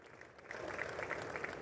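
Audience applause in the Congress chamber during a presidential address, a brief, fairly faint patter of many hands that swells slightly after the first half second and carries on evenly.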